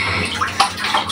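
Water is poured over hair during a half bath, a close, continuous splashing gush with small gurgling bursts and no talking.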